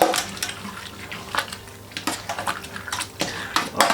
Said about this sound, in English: we need to go and get a spoon and give that a good stir